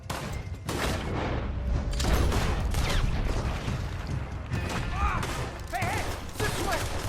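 Gunfire in Red Dead Redemption 2, loud repeated shots and booming reports in a chaotic firefight, with shouting voices over and between the blasts.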